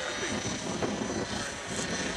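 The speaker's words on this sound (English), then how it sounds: "as you might be able to hear from the sound of that rotor going around, pilot Brad Perkins has braved the elements" A T-Rex 600 nitro-powered RC helicopter flies outdoors at a winter fly-in, its rotor and engine giving a steady buzzing whir at moderate distance.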